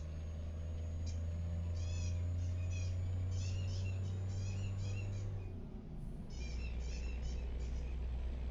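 Cat in a truck cab giving repeated meows over a steady low engine rumble, one cluster after another, with a brief pause before a final burst of meowing.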